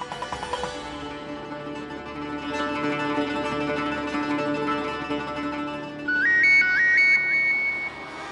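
A phone rings on an outgoing call, playing a steady repeating electronic ringback tune throughout, loud and close, then shifting into a higher beeping melody near the end, with no talking.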